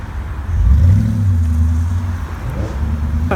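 A rally car engine revs at a street rally event in Bournemouth, a loud low rumble that swells early and holds steady with small rises in pitch, no talk over it.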